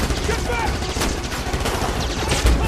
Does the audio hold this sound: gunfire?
yes